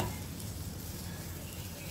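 Garlic bread toasting in a pan, a soft steady sizzle with faint crackling throughout, quiet and close with no voices.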